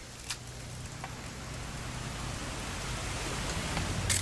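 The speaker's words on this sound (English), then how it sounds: "It's gonna rain the whole weekend," Steady rain hiss from the video game What Remains of Edith Finch, an even wash of noise with a few faint clicks and a low hum beneath, gradually swelling slightly louder, no talking.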